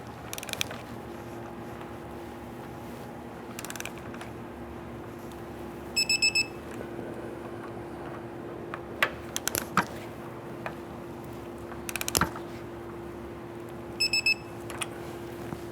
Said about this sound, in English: Let's go ahead and torque these bolts down to 96 foot-pounds.